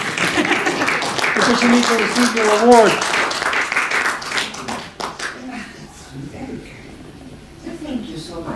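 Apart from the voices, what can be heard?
audience applause for an award recipient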